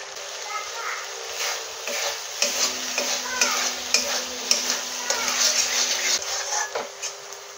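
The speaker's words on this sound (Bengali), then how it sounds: "মশলাটা ভালো করে কষে নেব।" Spice paste of ginger, garlic, grated coconut and cashew sizzling in a pan while being stirred, with steady frying hiss and repeated scraping clicks of the spoon, and a voice talking at times.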